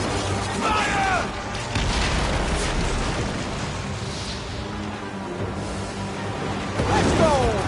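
Ship cannons fire in Assassin's Creed, booming and rumbling heavily against a busy naval battle din, with shouted voices cutting through near the start and again at the end.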